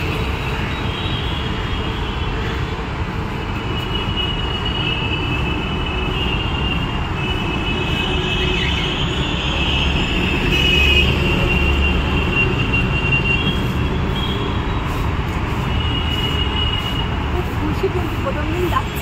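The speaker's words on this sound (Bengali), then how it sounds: "আর ওপর থেকে মেট্রো দেখা যাচ্ছে একদম" A metro train runs along an elevated track, a steady loud rumble and whine filling the whole stretch and swelling slightly midway, with a person talking over it.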